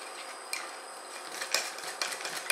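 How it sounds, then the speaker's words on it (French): Vanilla magic cake batter mixed by hand in a bowl into a coarse paste, producing faint, irregular clinks and scrapes of a utensil against the bowl, close and quiet with no talk. "Et on mélange jusqu'à obtenir une pâte assez grossière"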